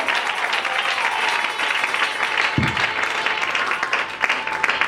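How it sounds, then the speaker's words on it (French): A church congregation applauds steadily for several seconds, a dense wash of clapping from many hands, with a brief low thump partway through. "Acclamons très bien pour le Seigneur."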